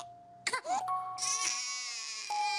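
Eerie, ghostly crying effect in an abandoned little house, a wailing, sobbing tone that swells louder and clearer, layered with a sustained high moaning drone, heard alone without speech.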